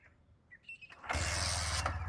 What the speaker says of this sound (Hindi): एक किक में स्टार्ट हो रही है।